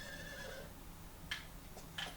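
A horse called by its rider in a video game gives a faint, thin whinny at the start, followed by a couple of soft clip-clop hoof sounds over steady background hiss.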